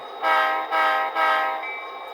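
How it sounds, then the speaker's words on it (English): A model train horn blows three short blasts in quick succession, close and fairly loud, the last one trailing off into a softer tone. "Love the sound of that horn, by the way."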